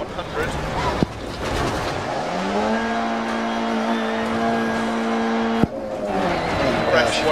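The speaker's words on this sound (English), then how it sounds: "I'm in a little Mini Cooper car here" Mini Cooper rally car in Dirt Rally, a small beater car, its engine holding a steady rising then sustained drone with harmonic whine, cut by brief sharp knocks near the start and end, with a voice talking over it.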